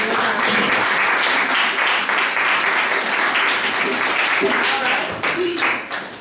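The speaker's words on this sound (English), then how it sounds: "Let's give him a round of applause." Dense, sustained audience applause fills a Kwanzaa ceremony hall, steady and loud before tapering slightly at the close, with a few voices mixed in.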